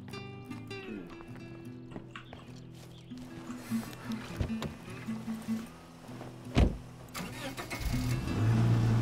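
Car engine in the zombie survival video game State of Decay 2, a low steady idle and revving rumble with a few sharp knocks, moderately quiet, with someone talking briefly.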